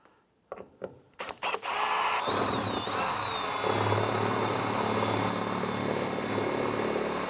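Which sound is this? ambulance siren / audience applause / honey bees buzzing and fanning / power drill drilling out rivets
power drill drilling out rivets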